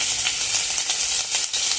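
Garlic and ginger sizzle steadily in hot oil, a dense continuous frying hiss with small crackling pops, close and loud throughout, no voices.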